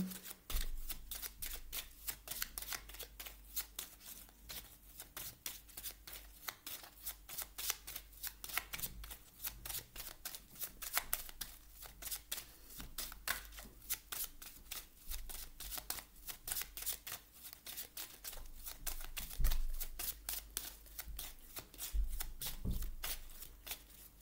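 Oracle cards shuffled by hand in a steady, continuous riffling patter with close, crisp flicks that keep going without pause and no voices.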